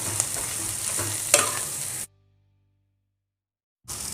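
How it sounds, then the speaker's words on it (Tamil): Potato mixture being stirred with coriander leaves in a pan for urulaikilangu bonda, a soft scraping and sizzling for two seconds, then silence before the stirring resumes briefly. "கொத்தமல்லித்தழை, உருளைக்கிழங்கை போட்டு நல்லா கலந்து விடணும்."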